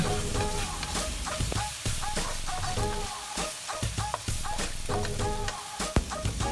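Okra stir-fried in a pan with salt and light soy sauce, giving a steady close sizzle with repeated scraping and clanking of a spatula against the pan; faint cluck-like sounds in the background.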